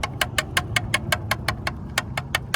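Knocking from the blow-off valve on a BMW M3 track car fitted with a spring that is too easy to compress: a fast, steady series of sharp, light ticks over a low engine idle, close and clear.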